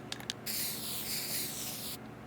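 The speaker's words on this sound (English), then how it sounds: "I can spray paint the X and then it'll pop up on the map like that" Spray paint hisses once in a continuous burst of about a second and a half, marking an X in The Long Dark, close and alone after a few faint rattles of the can.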